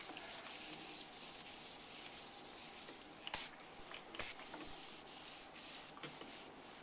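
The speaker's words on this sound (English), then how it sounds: "just continue applying the sealer" Rhythmic close-up rubbing of a cloth spreading granite sealer over a stone countertop, with steady wiping strokes and a couple of brief sharper taps, and no speech.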